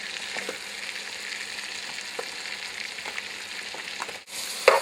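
Vegetables and mushrooms sauté in a pan for crawfish étouffée, giving a steady close sizzle that runs throughout, with occasional soft stirring clicks and a brief clatter near the end.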